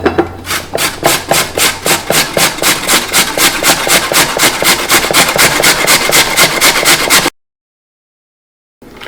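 Rapid, even scraping strokes of an ingredient rubbed over a kitchen grater on its medium side, about thirty rasps in a steady rhythm, close and fairly loud, then silence.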